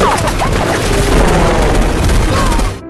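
A loud, dense barrage of gunfire from a helicopter rattles continuously, with heavy booms mixed into the rapid shots.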